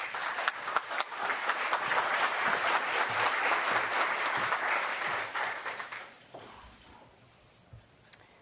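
Audience applause welcoming a speaker at a World Bank meeting: steady, dense clapping from a sizable crowd that holds for several seconds, then thins out and fades to a few scattered claps.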